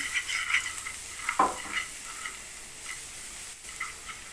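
Garlic frying in a pan for Egyptian koshari gives a faint sizzle broken by a few light scrapes and clinks of a spoon stirring.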